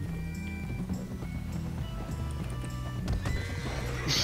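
A horse neighs and whinnies loudly, close by, amid steady clip-clop of hooves and a dense outdoor background, with a sharper high burst near the end.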